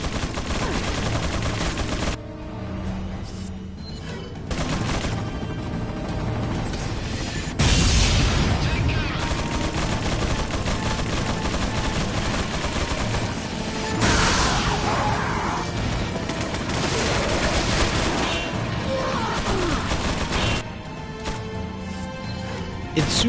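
Sustained Gatling gun fire in the video game Resident Evil 4, a dense, loud, continuous roar of rapid shots with booming impacts, running almost unbroken through the clip with brief dips.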